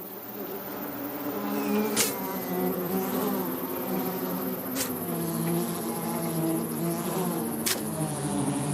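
A buzzing bee sound effect, its layered insect drone steady and loud with a few sharp high clicks, the pitch easing downward after a sting; no talk.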